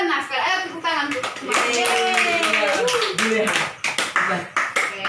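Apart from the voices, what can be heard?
class clapping for Julia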